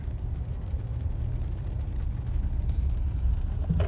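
Kia Telluride being driven: a low, steady road rumble with engine hum and a whirring drone that swells slightly toward the end; no one speaks.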